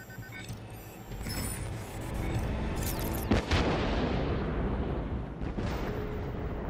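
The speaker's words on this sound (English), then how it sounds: "How can the explosion be that big?" A big explosion in the Batman Arkham Knight video game erupts midway with a sharp blast and crackling burst, then a rolling rumble over engine-like background noise, with no talking.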